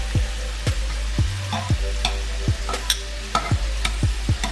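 Shrimp frying in a pan for fried rice: a loud, steady sizzle broken by a run of sharp scraping knocks as the spatula stirs and flips them, close up, with no talk.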